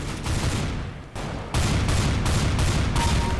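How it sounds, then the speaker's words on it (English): Shotgun blasts in CS:GO, a run of loud, heavy booms in quick succession with a brief gap near the middle, dense and close like rapid gunfire in a firefight. "I got the kill with the shotgun"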